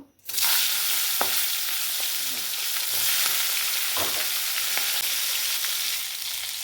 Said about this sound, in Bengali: মাছগুলো সব ধুয়ে বেছে নিয়েছি, এবার একটু ভেজে নেবো।